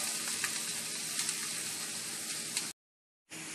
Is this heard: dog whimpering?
no